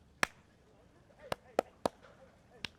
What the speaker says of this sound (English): You clap in front of my mic.